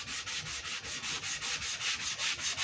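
Sandpaper is rubbed with the grain across a plain maple top on a Les Paul style guitar build, in a brisk, even back-and-forth rhythm of about a dozen strokes, close and alone.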